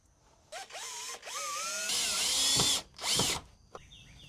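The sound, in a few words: power drill driving a screw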